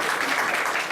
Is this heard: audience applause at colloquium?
yes